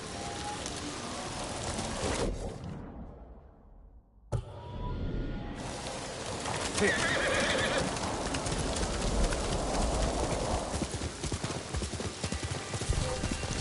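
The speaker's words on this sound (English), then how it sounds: "Good horse." A horse in the Ghost of Tsushima video game clip-clops in a quick gallop, with a brief drop-out mid-way, then hoofbeats return loud and close alongside game ambience, a possible whinny and bird coos.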